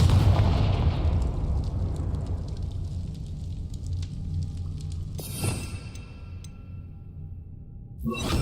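A booming Confringo blasting spell from Hogwarts Legacy opens loud and low, decays into a rumbling tail, then a second sharp crack and burst follow near the middle before fading to quiet.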